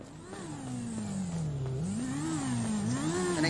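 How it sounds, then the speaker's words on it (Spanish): A stolen motorcycle's engine revs repeatedly in a GTA game, pitch climbing and dipping in loud, close waves over a steady whir, with no talk over it. "mira que Paquito está robando una moto"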